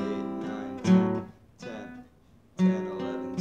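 An acoustic guitar plays the descending ladder riff from a song, strummed chords ringing in three separate phrases with short gaps, close and clear, with no voice.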